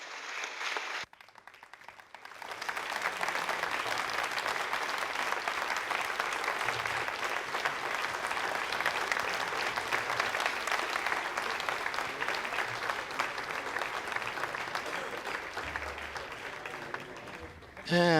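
Sustained applause fills an Ariane 5 launch control room after the GSAT-15 satellite separates, steady and dense for about fifteen seconds, ending with an abrupt louder burst.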